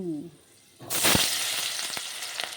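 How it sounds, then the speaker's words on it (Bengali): Potatoes hit hot oil with a sudden loud burst of sizzling, then keep frying lightly in a steady crackling hiss with a few sharp pops. The pan holds bay leaf and panch phoron spices. "আলুটা একটু হালকা ভেজে নিতে হবে আগে"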